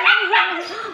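Dogs excitedly barking and yipping before their dinner, a couple of close, loud barks with a whiny, whimpering tone.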